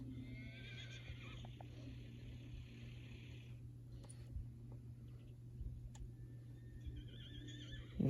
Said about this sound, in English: next ఇది horse,